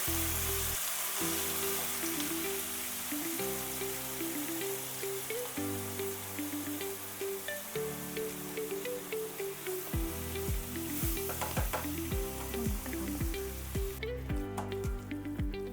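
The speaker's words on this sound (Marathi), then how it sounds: "आता आपण जे तूप उरलं आहे त्याच्यामध्ये आपण जे किसून घेतले पदार्थ ते चांगले असे भाजून घ्यायचे" Grated carrot, potato, banana and water chestnut roast in ghee for a winter halwa, a steady low sizzle with faint stirring scrapes, while background music plays throughout.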